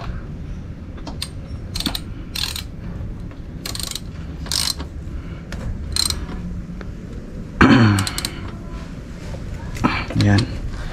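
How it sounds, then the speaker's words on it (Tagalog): A ratchet tightens the brake caliper bolt on a Yamaha MT-03/R3 motorcycle, producing repeated close metallic clicking bursts over a background hum, with a voice speaking at moments. "don't forget to tighten the bolt"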